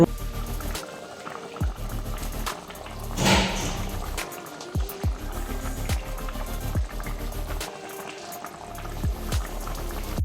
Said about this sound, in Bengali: টকবগিয়ে সবজি আমার ফুটছে